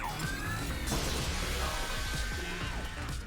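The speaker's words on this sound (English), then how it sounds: "smash the glass, pull the cable for the next artifact" Glass shattering in the PS5 platform game Astro's Playroom, a loud crash and burst of breaking fragments over game music, with no talking.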